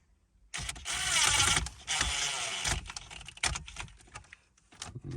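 A ratchet tightens torque screws on the shifter trim of a 2004 Audi A8L, giving a dense burst of fast clicking followed by a few scattered, uneven clicks, close and fairly quiet.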